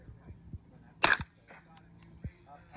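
An FX airgun is fired over a pocket chronograph, giving one sharp, close crack amid quiet room noise and a few faint clicks and thumps.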